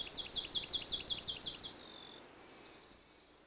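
A swamp sparrow sings a loud, even trill of about a dozen rapid repeated notes that stops abruptly, followed by a single faint chip, heard clearly against a quiet background.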